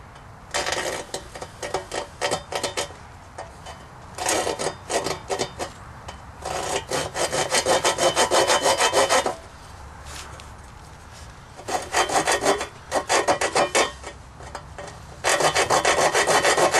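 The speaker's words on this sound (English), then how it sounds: "I'm just going to cut that blade out of the sheet of metal" Hand saw cutting a homemade broadhead blade out of sheet metal, in repeated bursts of rasping strokes separated by short pauses, close and fairly loud.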